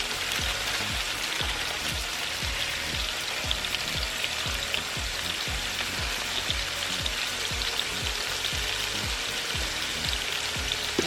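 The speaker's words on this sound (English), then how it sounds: "And we're going to let these potatoes fry." Potatoes seasoned with Cajun spice and onion mix frying in a pan, an even, continuous close sizzle with dense crackling and no talk.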